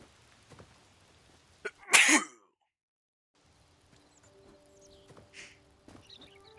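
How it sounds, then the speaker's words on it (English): A single loud, sharp human sneeze bursts out close to the microphone, with a small intake sound just before it and quiet room noise and faint movement after. "Yeah, first sneeze."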